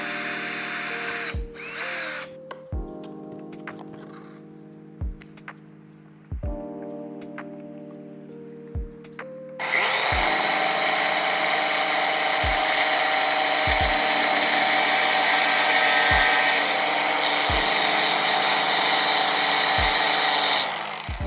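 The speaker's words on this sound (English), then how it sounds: "I will drill a small hole before to put the screw." A power drill drills a small hole in a plastic Nissan Skyline R34 headlight bracket, whirring in short pulses, then running in a long, steady high-pitched spin, with sharp clicks recurring at regular intervals throughout.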